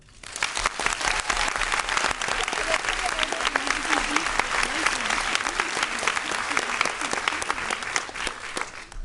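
An audience applauds at the opening night of the 17th Korean film festival in Paris, dense sustained clapping that swells and holds for several seconds, with a few voices faintly underneath.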